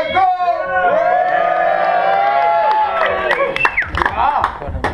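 An indoor crowd at a b-boy break dance battle in Trondheim shouts and screams together in a sustained roar, then breaks into scattered whoops and claps; a voice carries above the noise.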